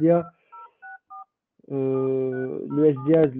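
Three short telephone keypad DTMF tones beep in quick succession after someone speaks, then his voice continues with another tone briefly overlapping.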